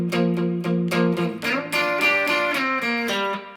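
Electric guitar plays a lead lick, picked double-stops moving into bent notes, loud and up close with no voices.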